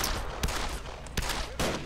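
Rifle and small-arms gunfire from the World War II strategy game Men of War Assault Squad 2 cracks out in three sharp shots over a dense background rumble of battle, set at a moderate distance.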